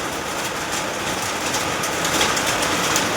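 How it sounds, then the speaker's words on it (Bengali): Hailstones drum steadily on a tin roof during a hailstorm, making a dense, continuous hiss-like patter with scattered sharper hits. It is loud and unbroken throughout, with no voices. "টিনের উপরে শিল পড়ছে আর আওয়াজ হচ্ছে"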